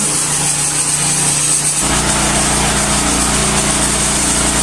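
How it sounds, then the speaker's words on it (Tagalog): A generator's steady engine drone hums continuously, loud and close, with a sudden change in tone partway through as the motor settles into a constant whine. "Nagbukas po ng generator"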